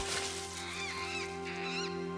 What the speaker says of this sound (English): Just a fat bird.